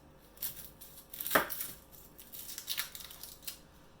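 A kitchen knife trims the ends off an onion on a cutting board in a gluten-free fajita cook, giving a few light, close taps and one sharper chop near the middle, with soft handling noise between and no talk.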